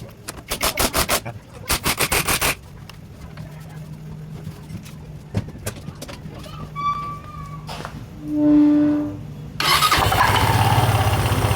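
A Motorstar ADV175 scooter fitted with a Honda Click pulley cranks in loud bursts, then settles into a steady close engine run, with brief whining tones and a louder revving surge near the end.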